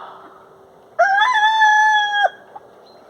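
A rooster in a poultry flock, let out in the morning, gives one loud, close crow lasting over a second, with a faint, low murmur of the birds before and after.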